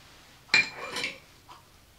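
A utensil clinks and scrapes against a bowl while preservative is stirred into a charcoal shampoo bar mixture, one sharp clink followed by a brief scraping swirl and a softer tap, close and clear.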